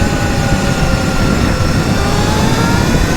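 A 72-volt Sur Ron electric motorcycle on coated wheels, with a 58-tooth sprocket, accelerates hard under a loud, steady rush of motor whine and wind roar that has no pauses.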